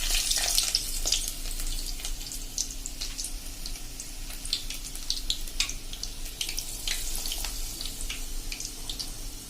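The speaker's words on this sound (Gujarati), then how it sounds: "બંચ જ આપણે આખી ડાળી જ લોટમાં ડીપ કરીને તેલમાં મૂકી દેવાની છે." Whole coriander sprigs dipped in gram-flour batter sizzle steadily in hot oil for Gujarati bhajiya fritters, a continuous bubbling hiss with scattered sharp crackles and pops throughout, close and fairly loud.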